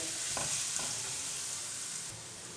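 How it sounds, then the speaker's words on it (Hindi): Ginger paste frying lightly in a pan as part of a chicken malai balls recipe, with a steady low sizzle throughout and a few faint stirring scrapes, no voices. "इसको भी करेंगे हल्का सा फ्राई, क्योंकि अदरक का जितना भी कच्चापन है ना वो ख़त्म हो जाए"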